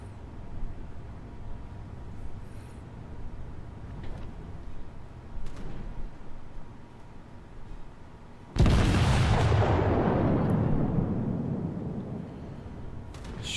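Battleship main guns in the naval game World of Warships fire a broadside, one sudden loud boom after a stretch of quieter engine and sea ambience, then a long rumbling decay.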